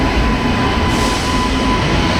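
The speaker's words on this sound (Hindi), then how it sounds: "तो हम लोग की ट्रेन तो चल रही है।" Barhni-Bandra Express train running, a steady loud rumble of wheels and carriage noise heard from inside, continuous throughout with no voices.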